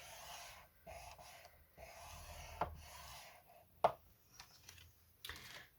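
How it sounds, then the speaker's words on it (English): Scoring blade drawn along a line half an inch in, giving quiet intermittent rasping strokes with a couple of sharper clicks, close and alone. "on the small one we do the same, score at 1/2 inch"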